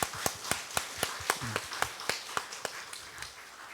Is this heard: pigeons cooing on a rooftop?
no